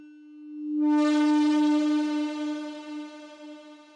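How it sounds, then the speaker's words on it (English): A reverb pedal driven into feedback by a no-input mixing board gives a steady sustained tone with rich harmonics that blooms in after a quiet start, washing into a dense reverberant drone that slowly wavers and decays. "let's go ahead and listen to just the pedal in feedback"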